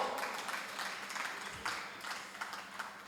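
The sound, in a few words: audience applause, clapping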